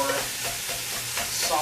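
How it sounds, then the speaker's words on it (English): Ground beef and sausage brown in a pot for chili soup, giving a close, steady crackling sizzle with occasional stirring scrapes and no voices. "I'm sure you can hear that sizzling going on where it's browning up our hamburger"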